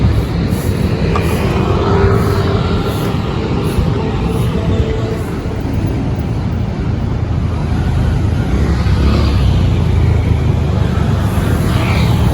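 An LRT1 light rail train passes along the Pasig River Esplanade in Manila, a steady loud rumble and rolling roar that swells slightly toward the end, heard outdoors with no talking.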